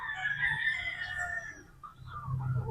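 Young Sweater Boston 50-50 pullet chickens at a game farm, with a rooster crowing prominently near the start and scattered clucks and cackles following, moderately loud against a low farmyard background and no talking.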